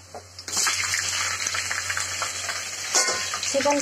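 Chicken pieces drop into hot oil with onions and a lemon leaf, setting off a sudden loud sizzle that holds steady and swells again near the end with stirring scrapes; no one speaks.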